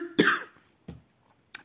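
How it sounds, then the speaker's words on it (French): Three separate coughs: a harsh, loud one followed by two shorter, fainter coughs, with quiet pauses between them. "je n'en peux plus de tousser comme ça"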